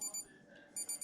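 A meat thermometer's temperature alarm beeps in two short bursts of high electronic pulses at the start and end, separated by a quieter gap, while a tri tip smokes in a wood-fired pizza oven.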